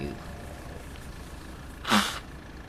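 A single sharp sneeze bursts out near the end, loud and close, over a low steady background hum from a farming game.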